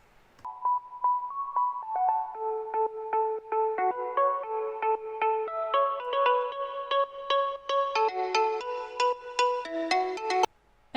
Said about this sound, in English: I slowly start to introduce the drop melody in the build-up by automating a low pass filter